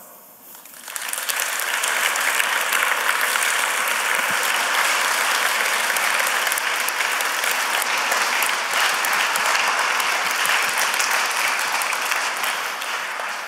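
Audience at a tech conference breaking into applause after a talk, a dense, loud, sustained wash of clapping that swells in within the first second and holds steady before easing off.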